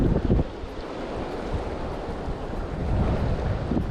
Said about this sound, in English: the wind's making it pretty hard to manage